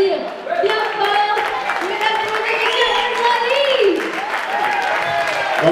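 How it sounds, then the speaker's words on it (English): An audience applauds at a rock concert in the Balajo club, a sustained wash of clapping and crowd noise mixed with voices and a tonal background. "on peut les applaudir bien fort."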